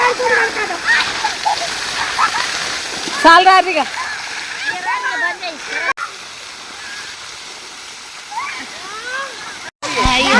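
Water gushing steadily from a pump under a tree in a village while children bathe, a continuous splashing rush with children's excited voices and shouts rising over it.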